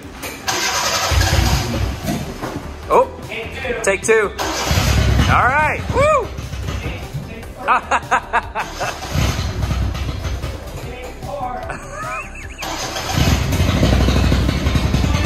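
A small Subaru Sambar kei truck engine cranks and catches with sharp starter whines, then settles into a steady idle, started twice in a row in a garage, with someone talking and cheering over it.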